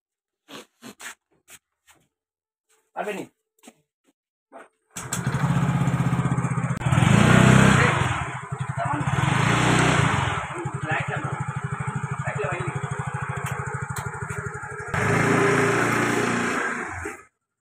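A few short clicks and taps, then a motorcycle engine starts and runs loudly nearby, revving up and settling several times before cutting off.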